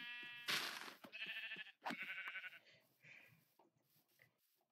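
Sheep bleating in the video game Minecraft, several short nasal bleats in quick succession, fairly close and clear, fading into softer ambient game sounds.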